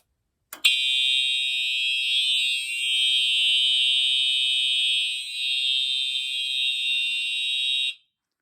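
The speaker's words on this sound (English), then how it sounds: "the alarms are going off in continuous" A Simplex 4004R fire alarm panel sounds its alarm continuously, a loud, steady electronic tone that starts abruptly and holds unbroken for about seven seconds before cutting off.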